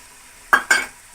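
Tomato, coriander, mint and green chili paste hits hot oil, giving two quick, loud hissing bursts in close succession before fading.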